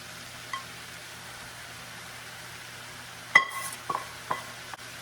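Pangas fish and cabbage cook in a little oil, giving a faint, steady hiss, broken near the end by a few sharp scrapes and knocks of stirring against the pan.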